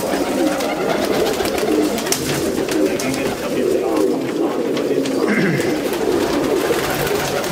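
Domestic pigeons, including Teddy, Rampuri, Sialkoti and Golden breeds, coo steadily among a flock, with soft overlapping calls close by and a constant bird murmur throughout.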